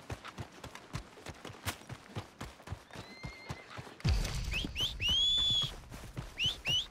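Horse hooves clip-clop in steady rhythm in Red Dead Redemption 2, drawing nearer over a whistle, then a rumbling ambient bed with chirping birdlike tones takes over as the horse arrives.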